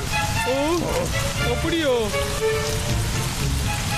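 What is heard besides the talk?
rain falling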